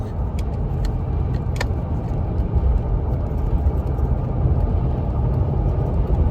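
A 2005 Ford Explorer XLT with a V8 cruises on the interstate, its steady road and engine rumble droning continuously at close range, with a few faint ticks above the hum and no talking.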